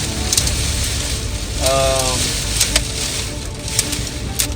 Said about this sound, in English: Luckily the hail is pellet size